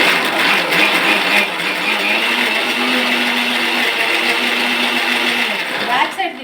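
A mixer grinder blends mint chutney, a loud, steady whirring motor drone that runs for about six seconds and then winds down, with a voice briefly heard at the very end.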